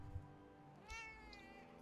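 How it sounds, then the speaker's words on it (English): A cat meows insistently, one drawn-out yowl rising clearly over a low background hum, close and alone without any talking. "I got a cat screaming at me."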